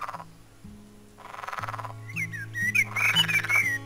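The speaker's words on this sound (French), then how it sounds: "nous casse les oreilles, ces grenouilles" Frog croaks for an animated film's sound design repeat in a steady, rhythmic chorus, joined by higher chirping calls, fairly quiet and with no voices over them.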